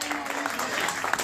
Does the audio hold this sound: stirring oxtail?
no